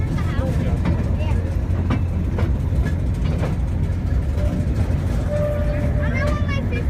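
A railroad speeder on the Stewartstown Railroad rolls along the tracks with a steady, close rumble and rattling clatter, and voices are faintly audible beneath it.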